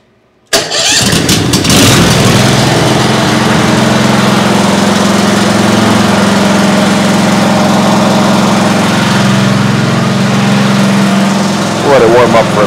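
A Briggs & Stratton Elite 10000 generator starts with a sudden crank after a second of silence, then settles into a loud, steady engine drone that holds for over ten seconds with a slight rise near the end.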